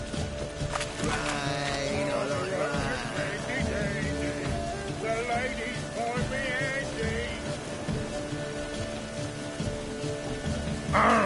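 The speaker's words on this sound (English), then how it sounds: "Rain again. Damn mages." Steady rain falls in the video game The Witcher 3, a constant hiss under layered game sounds and a few louder bursts, with no pauses.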